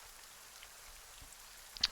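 Steady light rain patters softly throughout, with faint scattered drops and one brief sharper tick near the end, the ambience of a storm in a tabletop game session.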